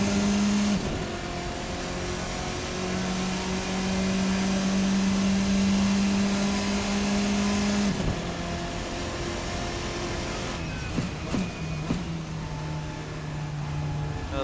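Formula RSS 4 open-wheel race car from a 2024 racing sim, its engine droning at steady high revs, then dropping off under braking and climbing back as the throttle opens again, loud and close without any talk.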